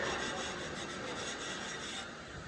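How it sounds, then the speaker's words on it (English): Continuous harsh scraping and rubbing, a wire brush scrubbing a root pass weld on metal practice plates in fast repeated strokes, close and fairly loud with no talking. "I'm gonna use wire brush."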